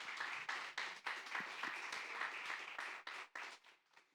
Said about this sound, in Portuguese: só quem crê nisso dá uma salva de palmas